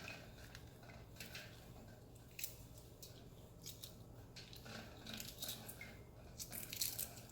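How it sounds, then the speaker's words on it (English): Hard-boiled eggs are cracked and peeled up close, with soft crackling and crunching of shell in short irregular bursts over a low steady background hum. "I'm just going to start cracking and peeling them"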